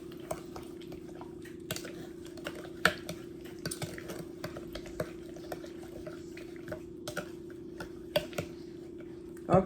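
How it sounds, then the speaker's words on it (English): A peach cobbler mixture being stirred with a utensil in a bowl gives soft, irregular scrapes and clinks over a steady hum, close and fairly quiet. "I ain't doing it but stirring it up inside the thing"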